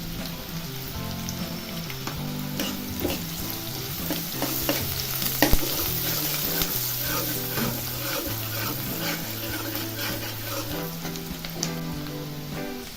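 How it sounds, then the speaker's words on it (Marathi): Chopped onion sautés in a hot pan for a spicy jackfruit seed curry, a loud continuous sizzle with scraping stir strokes and occasional clinks, close by with no talking. "आता कांदा टाकायचा आहे कांदा परतून घ्यायचा"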